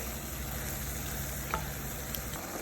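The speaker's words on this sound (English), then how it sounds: "Now their tomatoes are cooking well with the ground beef." Chopped tomatoes and ground beef cook in a pan for a meat sauce, giving a soft, steady sizzle with faint crackles and a few small pops, quiet and with no voices.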